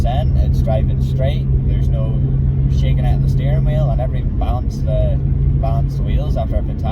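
A Lexus IS200 on new wheels and cut springs drives along, its low steady engine and road drone heard from inside the cabin beneath someone talking throughout.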